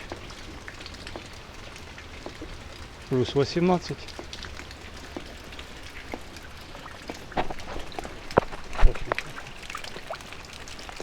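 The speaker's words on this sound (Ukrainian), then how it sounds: "Бачите, як і передбачалось, пішов дощ." Steady light rain patters on a vegetable garden throughout, with a brief voice speaking and a few scattered thumps and clicks.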